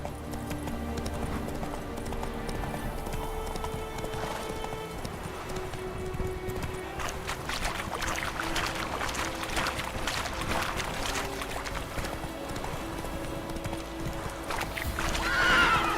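A horse in a video game trots with steady clip-clopping hoofbeats and lets out neighs and whinnies, heard at moderate volume over faint ambient background, growing slightly louder toward the end.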